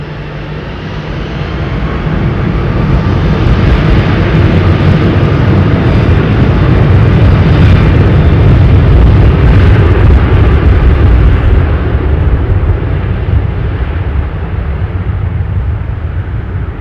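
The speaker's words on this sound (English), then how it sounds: "Trent 800s on this 777 with American Airlines." An American Airlines Boeing 777-200 with Rolls-Royce Trent 800 engines roars at London Heathrow Airport, a loud, sustained jet rumble that builds over the first seconds and holds powerfully before easing slightly, with no voices.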